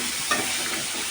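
Spice paste is stirred into bitter gourd fry in a hot pan, a short burst of sizzling with a scrape of the spoon, close and alone.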